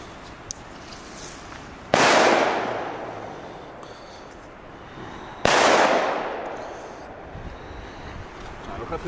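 Belgian fireworks and firecrackers go off in two loud, sharp bangs a few seconds apart, each leaving a long, fading rumble of echo outdoors.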